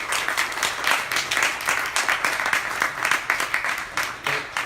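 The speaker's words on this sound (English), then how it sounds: "If we get another round of applause for them" Audience applause at a reading, steady rhythmic clapping from a small crowd, sustained and fairly close.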